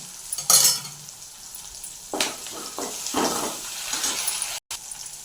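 Onions and dried red chillies dropped into hot oil for a tempering, giving short bursts of sizzling and a few stirring scrapes and clinks, close and moderately loud, with quiet gaps between.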